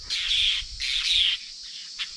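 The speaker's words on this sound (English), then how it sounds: "Apostle birds are great." Apostle birds in outback Queensland give harsh, scratchy squawks in two close bursts, followed by a short, fainter call, fairly near with no talking.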